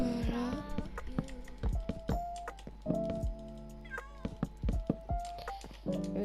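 A cat meows over and over, with short and longer calls close to the mic, under a steady low hum and some tapping.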